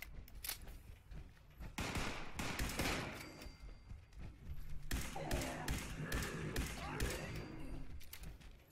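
Gunfire in Fallout 76, rapid bursts and single shots cracking in uneven clusters, some near and loud, others thudding farther off, with a voice talking in between.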